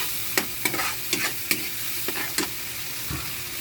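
Sarsado frying in a pan, stirred with a few sharp scraping clacks over a soft, steady sizzle, close and fairly quiet, with no talking.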